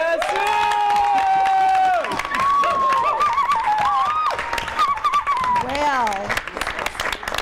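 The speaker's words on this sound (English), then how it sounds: "I'm wondering if this would be a good time to have a round of applause for you for putting this together." A conference panel audience breaks into a round of applause, with steady clapping and some cheering heard under people speaking nearby.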